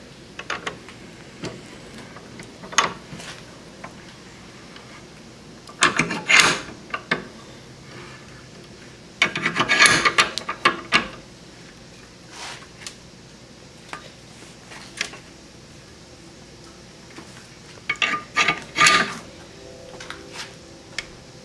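A crimping tool crushes a cable terminal on a workbench while solar generator cables are made, producing several bursts of ratcheting clicks and squeezing creaks separated by quieter gaps.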